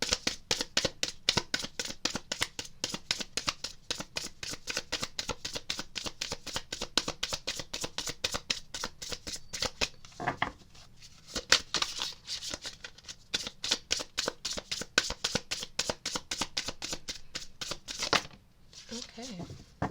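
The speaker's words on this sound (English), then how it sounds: "Please excuse the loud shuffling." Tarot cards being shuffled loudly and continuously, a rapid, close riffling patter that runs nearly nonstop, with a brief pause midway and another near the end.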